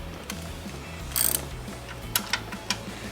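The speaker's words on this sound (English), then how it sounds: "Let's go ahead and undo these bolts." A ratchet wrench working on 13 mm bolts of a 2006 Dodge Magnum SRT8 water pump: a short burst of rapid clicking followed by a few separate metallic clicks, close by over a low steady hum.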